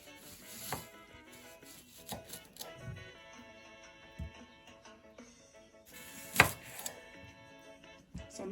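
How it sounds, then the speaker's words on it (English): Garlic cloves and red onion in a manual food chopper, irregular dull chopping thunks and clacks at a moderate level, several spaced strikes with a sharper one near the middle. "You just pour everything in here and chop them."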